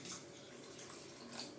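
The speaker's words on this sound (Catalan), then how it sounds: "Acabem de cobrir una miqueta més amb aigua, que quedi 3/4 de les galtes cobertes." Water poured into a pot of pork cheeks being braised with ratafia, a soft, steady stream of liquid running quietly and close by, with no talking.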